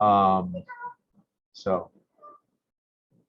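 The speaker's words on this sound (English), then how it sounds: "sounds like there's a cat here, so I apologize for that background noise." A cat meows loudly and clearly twice, a long drawn-out cry followed by a shorter one, close to the microphone, with faint quiet sounds between the calls.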